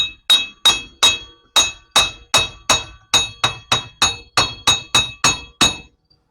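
Hammer tapping a rear axle flange home onto the splines of a 1959 Chevrolet Bel Air with a big block, about fifteen sharp metallic ringing strikes in a steady rhythm, close and loud with no talk.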